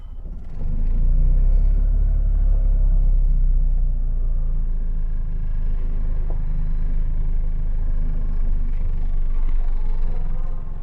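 A Polski Fiat 126p idles with a steady low rumble close by, holding an even, throbbing tone throughout without revving while it is shifted into reverse.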